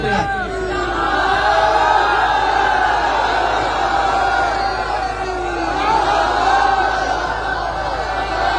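A large political rally crowd in Sindh roars a slogan together, a loud sustained chorus of shouting voices swelling and holding for several seconds.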